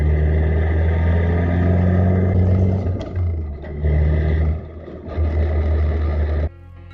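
The failing six-speed gearbox of a Nissan S15 Silvia is heard while driving, with a loud droning whine and engine hum that rises and falls as gears change. Short dips and shifts break up the sound before it cuts to a lower tone.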